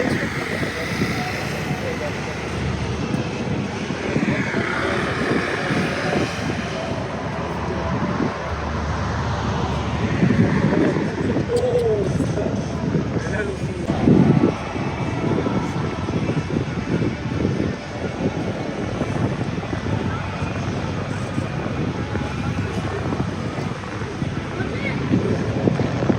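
Wind blows outdoors at a cycling tour stage in Turkey, a steady, close rumble buffeting the microphone across the whole stretch, with occasional brief louder gusts.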